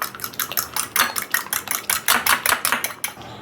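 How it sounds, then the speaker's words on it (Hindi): An egg with a pinch of salt and ground black pepper is beaten briskly in a bowl, giving a fast, steady run of close, loud clinks and taps from utensil against the bowl, with no talking. "एक अंडा लें, उसमें 1 पिंच सॉल्ट और 1 पिंच पिसी हुई काली मिर्च। अब इसको अच्छे तरीके से फेंट लें।"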